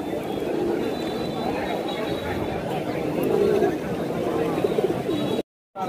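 Pigeons coo continuously amid the bustle of a traditional open-air pigeon market in Narsingdi, Bangladesh, their soft throaty calls layered under a busy crowd murmur and nearby voices, with a brief cutout near the end.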